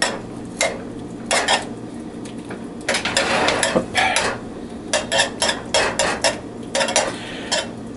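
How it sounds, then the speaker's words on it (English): Whisk rattling against a pan as butter is beaten into a white wine sauce for poached fish, giving bursts of rapid metallic scraping and clinking separated by short pauses, close and loud. "We're going to whisk that in."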